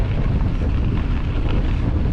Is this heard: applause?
no